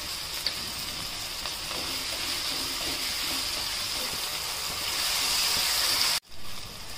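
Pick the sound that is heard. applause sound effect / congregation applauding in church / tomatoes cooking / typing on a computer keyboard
tomatoes cooking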